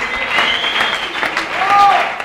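Crowd clapping at a live rap show in a neighborhood setting, a short burst of applause with some voices mixed in, fairly close and steady.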